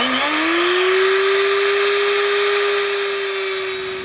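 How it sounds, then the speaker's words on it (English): A cutoff wheel spins up to cut knife handle pins: a loud, steady, high-pitched whine that rises briefly at the start, then holds evenly throughout. "I'll mark them with a marker and use the cutoff wheel"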